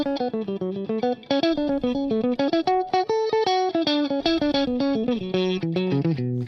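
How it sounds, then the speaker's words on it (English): Distorted electric guitar playing a fast, steady run of evenly picked single notes, each note cleanly attacked in a continuous, mechanical rhythm. "if you pick all your notes and you always alternate pick, it sounds like this."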